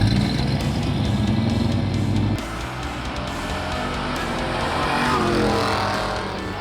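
A 1976 Chevy Nova muscle car engine with a 4-speed, long tube headers and true dual exhaust rumbles loudly up close, a throaty rev that drops off partway through into a rougher, noisier roar.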